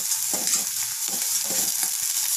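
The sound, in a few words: garam masala and spices frying in a pan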